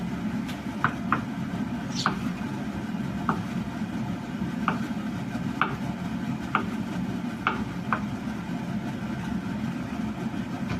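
A knife chops mushrooms on a cutting board in irregular, sharp chops, some in quick pairs, over a steady low engine-like hum.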